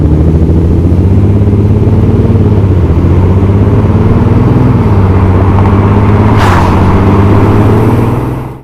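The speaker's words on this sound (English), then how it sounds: "Sometimes it sounds like a truck, but with the fake noise augmentation that can be heard outside, it actually sounds really good." An Audi S4 V6 diesel engine with fake noise augmentation runs loud and close, a deep steady drone whose pitch rises and dips slightly, ending in a brief fade with no talk.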